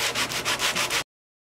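Wooden top of a cigar box guitar being sanded smooth by hand: about six quick, even back-and-forth rasping strokes in a steady rhythm, close and clear, ending abruptly.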